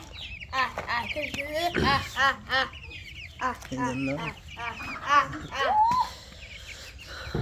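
Sonali hens at a small home farm, clucking and calling in repeated short bursts near at hand, with other fowl sounds mixed in and a person talking at times.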